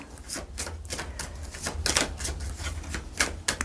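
Petit Lenormand cards being handled and shuffled, giving a run of quick, sharp clicking and tapping bursts at irregular intervals, close and fairly quiet, with no voice over them.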